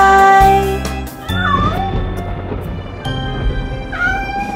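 Kittens meowing in a children's nursery song, several close, loud high meows over a sung melody and backing music.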